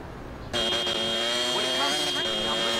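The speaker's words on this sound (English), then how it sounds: "What kind of alarm is this?" An alarm blares in Liberty City Stories, a steady electronic tone with a high piercing line that starts abruptly and holds loud and continuous, layered with engine-like rumble and game noise.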